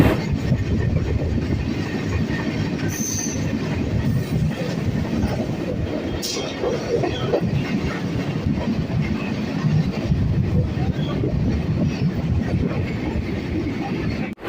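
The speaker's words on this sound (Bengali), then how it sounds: "আমাদের ট্রেনটি এখন খর্দা স্টেশন থেকে ছেড়ে দিল" A moving local train, departing Khardah station toward Titagarh on the BBD Bag to Barrackpore line, rumbles steadily and loudly throughout, with rhythmic rattling of the carriages and brief metallic squeaks.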